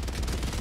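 Rapid automatic gunfire in Helldivers 2, a fast steady stream of shots coming from a distance, heard alone for a brief moment.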